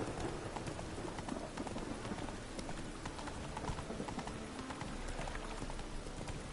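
A horse galloping in The Witcher 3 video game, with steady, continuous clip-clop hoofbeats throughout, fairly loud over a dense backdrop of game ambience.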